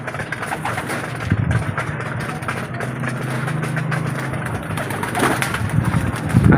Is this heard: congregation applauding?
no